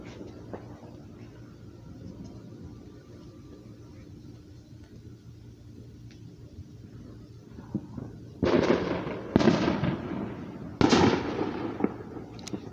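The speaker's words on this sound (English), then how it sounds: "I like fireworks. I like watching fireworks from afar." Distant fireworks thump and crackle in a few bursts after a long stretch of low background rumble, echoing in the open air.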